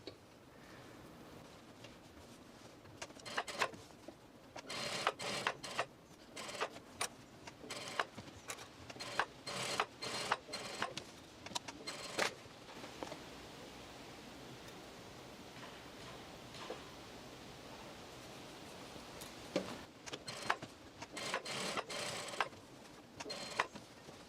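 A sewing machine runs a topstitch close to the edge around a pants facing, producing faint clusters of rapid ticking stitches with quiet gaps, soft and somewhat distant.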